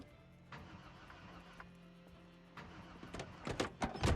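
A car engine cranks and sputters in clunky mechanical bursts toward the end, rising over a low, steady background hum.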